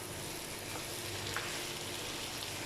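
Potato and cauliflower aloo gobhi with spices frying in oil over a medium flame, a continuous even sizzle with faint stirring scrapes as it is mixed, no voices.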